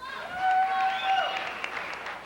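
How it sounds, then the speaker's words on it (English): An arena crowd at a boxing match applauds and cheers for fighter Ted Pryor of Fort Lauderdale, Florida, a swelling wash of clapping with a few shouts carrying over it, fading slightly toward the end. "Ted Pryor brought all of Fort Lauderdale with him the way yes, they're cheering"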